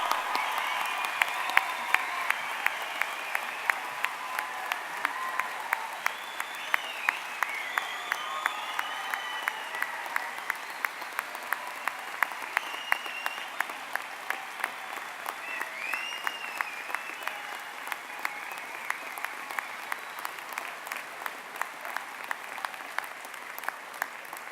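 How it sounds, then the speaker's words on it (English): Sustained applause from a large commencement crowd congratulating the graduating class of 2018 at Trine University, a steady dense patter of many hands lasting throughout with no voices over it. "join me in a big round of applause in congratulating the class of 2018"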